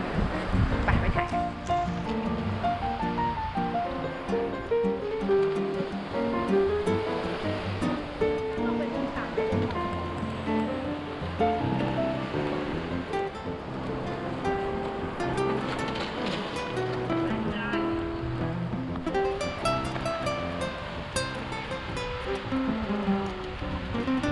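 Small ocean waves wash onto the sand at Thung Wua Laen beach in Chumphon, a continuous soft surf rush heard under near-constant talking.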